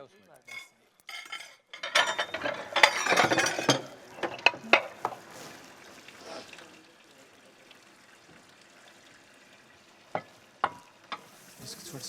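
A spoon and dishes clatter in a kitchen, with a dense burst of metallic clinks and scrapes near the start, then sparse, scattered knocks and taps with quiet gaps and faint voices in the background.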